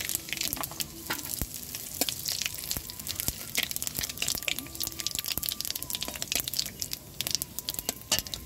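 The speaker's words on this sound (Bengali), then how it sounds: "তেলটা আমার গরম হয়ে গেছে, তেজপাতা, শুকনো লঙ্কা আর জিরে ফোড়ন দিয়ে দিচ্ছি।" Bay leaf, dried red chili and cumin crackle and sizzle in hot oil, a dense, steady frying hiss with sharp pops and occasional stirring scrapes, no talking.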